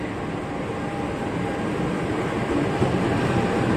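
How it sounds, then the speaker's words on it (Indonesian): Service locomotive CC2261320 rolls through track 7 at Jatinegara railway station in Jakarta, a steady, loud, close rumble of engine and wheels that holds unbroken throughout, with no talking. "ini dia bakal melintas lokomotif dinas di jalur 7"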